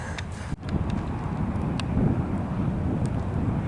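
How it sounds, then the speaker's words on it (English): Strong outdoor wind buffets the microphone at a roadside attraction, making a loud, continuous low rumble with a brief dip near the start and no voices. "the wind's like blowing it"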